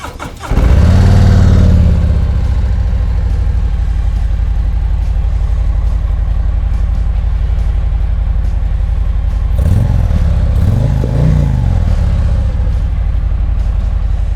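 A 2021 Harley-Davidson CVO Street Glide with a bronze exhaust starts with a sharp crank and then settles into a deep, loud, lumpy idle. Throttle blips rise and fall near the end, all close up with no talking.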